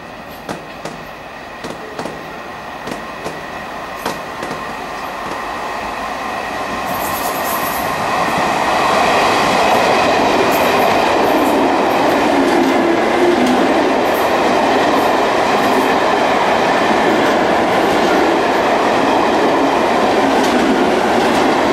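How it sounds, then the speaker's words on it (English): A non-stopping train approaches and rushes through a station, its steady roar building to a loud, sustained rumble with rattling wheels and faint squeals. "The approaching train is not scheduled to stop at this station."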